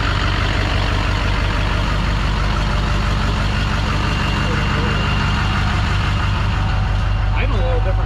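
A Ford OBS truck with a 7.3 diesel engine and an aftermarket cam idles close by, a loud, steady, rumbling clatter that holds unchanged throughout.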